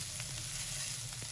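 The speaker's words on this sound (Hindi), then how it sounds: "बस हमने सिर्फ आलूओं के अंदर मसाले को मिक्स करना है" Boiled potatoes tossed with spices in a hot pan for samosa stuffing, a steady soft sizzle with a couple of faint spoon scrapes, close but quiet.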